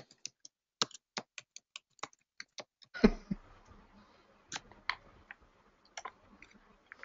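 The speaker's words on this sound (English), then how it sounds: "while you're typing this out" Someone types on a computer keyboard nearby in irregular single clicks and short bursts, with a louder thump partway through and fainter clatter after it, and no voices.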